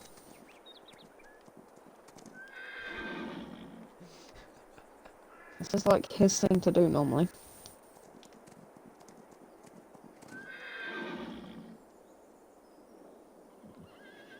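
Horses in the Farming Simulator 22 video game give a loud, close whinny at mid-clip, with hoof clip-clop and softer neighs around it, while players talk over the scene.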